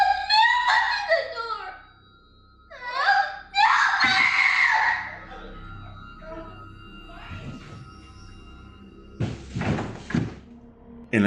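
A child screams and wails at night in a living room, captured by a home security camera, in several loud, shrill bursts separated by quiet stretches, with thuds and a door-like bang between them.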